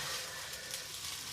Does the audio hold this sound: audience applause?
no